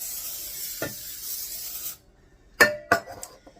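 A steady hiss of cooking spray into a 9x13 pan for about two seconds, then stops, followed by a few sharp metallic clinks and taps.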